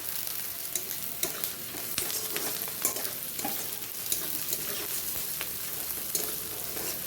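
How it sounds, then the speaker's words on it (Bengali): Onion and green chilli sizzle in a pan for mixed fried rice, a steady crackling fry broken by irregular scrapes and knocks of a spatula stirring, close and alone. "পেঁয়াজ হালকা ভাজা হয়ে গেছে"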